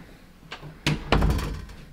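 A bedroom door in a newly moved-into house swings shut, giving a couple of solid thuds as it closes, close and fairly loud against a quiet room.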